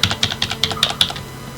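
Keys clatter on a computer keyboard that is sticking, in a quick irregular burst of about a dozen close, crisp strokes with no speech.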